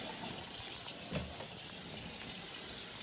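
Tap water runs steadily over beans being rinsed in a home kitchen while making pasta e fagioli. The faint, continuous splashing stays even throughout with no talking.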